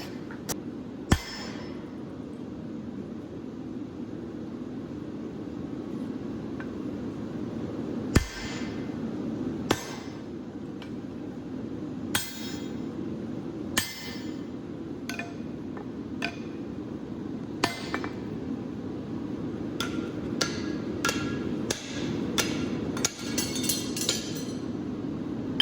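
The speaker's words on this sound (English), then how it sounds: "hammer the drift in and then beat on the thicker cheek to thin it out" A blacksmith hammers a drift into hot truck spring steel while forging a top cutting chisel, sharp ringing hammer strikes landing in irregular bursts, loud and close, over a steady forge roar.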